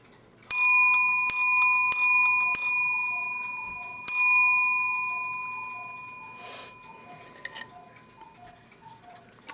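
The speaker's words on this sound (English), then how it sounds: "this is pulled back to make a good loud gong" An 1850s Black Forest wooden plate shield clock gong strikes four times, loud and close, each bright metallic stroke ringing out and decaying slowly, while a soft mechanical ticking continues underneath.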